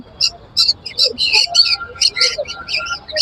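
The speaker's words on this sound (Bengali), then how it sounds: "ব্লু চিপ কুনুর আছে" Blue-cheek conure parrots at Baguiati bird market in Kolkata give a close, rapid series of sharp high chirps and squeaks in short bursts over faint background noise.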